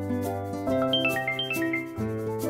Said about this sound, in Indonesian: Telepon aku bunyi.